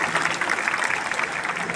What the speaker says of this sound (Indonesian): Kita berikan aplaus untuk para orang tua.